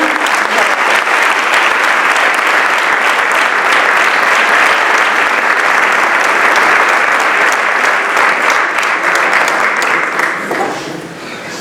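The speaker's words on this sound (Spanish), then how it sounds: "Así que un fuerte aplauso para él." A large gathering of cofrades and officials in Abarán bursts into loud, sustained applause at a ceremony, the dense clapping carrying on for about ten seconds before it starts to taper off.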